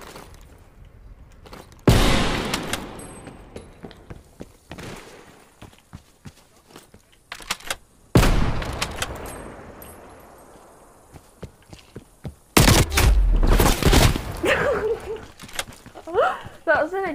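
Gunfire in the video game Call of Duty Cold War, heard as a few loud, sharp bursts with ringing tails spread through the clip, beneath and between frequent talking.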